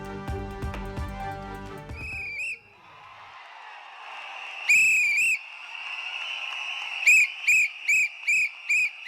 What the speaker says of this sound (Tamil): மேடையில் விசிலை ஊதி விஜய் உற்சாகம்